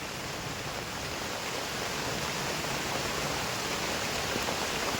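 Rain pours steadily outdoors near a well, a dense even broadband hiss that holds unbroken from start to finish with no voices.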